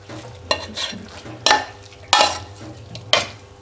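Chopped coriander being stirred into an omelet in a frying pan: soft sizzling with four distinct louder scraping strokes of a spatula against the pan, spaced about a second apart, no talking.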